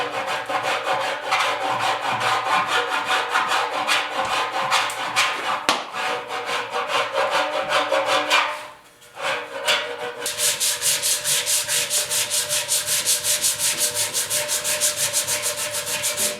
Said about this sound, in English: Just finishing it off here with the 80 grit.